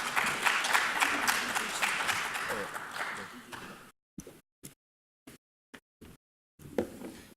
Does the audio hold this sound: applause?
yes